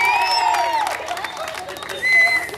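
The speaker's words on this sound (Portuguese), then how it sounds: "Uma salva de palmas pro Zé, galera." A crowd applauds and cheers for Zé at a celebration in Sapopemba, São Paulo's east zone, with loud clapping mixed with shouting voices and whistle-like cries, swelling again near the end.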